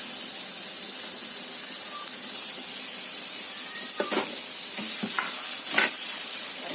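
Carrots stir-fry in a pan with a steady, even sizzle and hiss throughout, broken by a few short scraping clatters from the spatula near the end.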